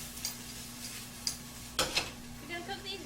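Vegetables and fruit sizzle quietly in oil in a pan, a faint steady fry with a steady low hum beneath and a few sharp clinks of utensils, no talk.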